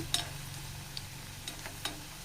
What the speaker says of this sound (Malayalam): തിരിച്ചു മറിച്ചൊക്കെ ഇട്ട് നമുക്ക് ഫ്രൈ ചെയ്തെടുക്കാം